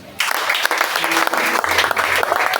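A church congregation bursts into loud, sustained applause, dense clapping from a large crowd that starts abruptly and carries on steadily.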